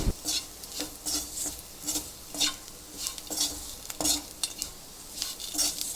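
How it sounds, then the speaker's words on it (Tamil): Squid and onion fry (kanava varuval) stirred in a pan with pepper powder: a scraping spoon clatters in regular strokes over a steady sizzle, close and moderately loud, with no voices. "நல்லா சவுண்டே வருது பாருங்கள், கலகலன்னு"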